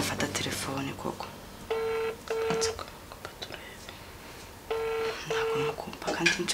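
An unanswered phone call rings out as repeated pairs of beeping ringback tones in two bursts, while people murmur and talk quietly around it.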